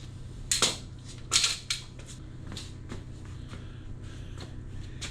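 Metallic clacks and snaps as new staples are loaded into a staple gun, a few loud close clicks early, then quieter handling over a steady fan hum.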